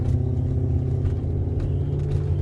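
Steady low engine hum and road rumble from a 1994 BMW E34 530i wagon on 16-inch rims cruising slowly around a village, heard from inside the cabin with no talk.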